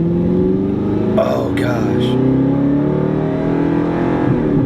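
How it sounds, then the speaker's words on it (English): An Audi R8 engine roars from inside the car as it accelerates, a loud, rising drone with a climbing pitch; a passenger briefly exclaims over the noise. "Just the sound of that engine"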